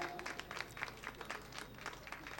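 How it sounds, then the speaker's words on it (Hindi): Applause from the audience at an award ceremony for student achievements, a steady patter of many hands clapping for about two seconds, moderately quiet and continuous. "जोरदार तालियां"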